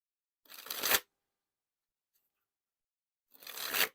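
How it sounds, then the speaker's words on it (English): Balance playing cards by Art of Play dribbled from hand to deck, two short crisp bursts of rapid card clicks about three seconds apart, with silence between and no voices. "So they got a nice click to it, which is nice and fun for the dribbles here."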